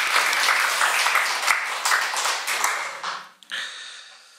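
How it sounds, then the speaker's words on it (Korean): A Korean church congregation gives its choir a burst of loud applause that rings out then tapers and fades near the end, with a few stray claps after. "다시 한번 우리 크게 박수 한번 하겠습니다."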